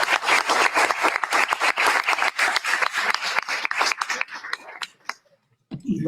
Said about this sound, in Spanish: Así que un aplauso para nuestros panelistas y para ustedes.